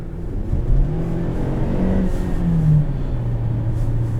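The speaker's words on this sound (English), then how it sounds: "it takes a quick second for this turbo to spool up" A 2017 Hyundai Santa Fe Sport with a 2.0-litre turbo engine accelerating, heard from inside as a steady low rumble and rising engine drone that holds loud and continuous throughout.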